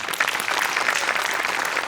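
Audience applause in a Marathi comedy show studio, a dense, loud burst of many hands clapping continuously with no break.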